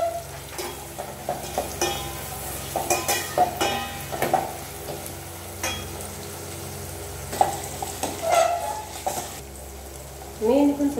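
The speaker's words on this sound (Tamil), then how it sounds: "100 கிராம் சின்ன வெங்காயம் போட்டால் வதக்கணும்" Small shallots sautéing in a pan for Tamil fish kuzhambu, a soft steady sizzle broken by intermittent stirring scrapes and clinks, with a voice talking over it.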